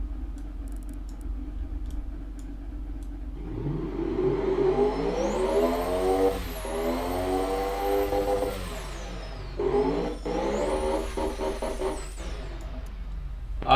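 A normal V8 car engine in the Automation car company tycoon game revs up and down in long synthetic sweeps, loud and steady with a brief dip midway, heard alone without talk.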